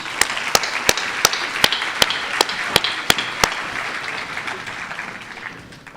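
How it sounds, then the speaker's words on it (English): Applause for high school students gathered on stage at an evening awards event, with a few sharp, evenly spaced close claps standing out over a softer crowd clapping that gradually fades toward the end. "let's give them a round of applause"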